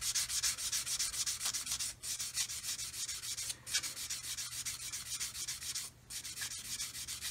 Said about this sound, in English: So now I'm going to take a sanding sponge, this one here